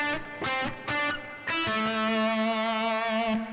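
A slow version of the opening lick of a guitar solo on overdriven electric guitar: a few short stabbed notes, then a bent note held with singing sustain, clear and prominent.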